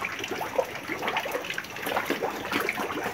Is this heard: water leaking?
yes